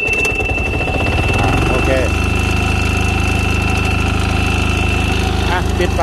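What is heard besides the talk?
Yanmar diesel engine on a straw baler, pull-started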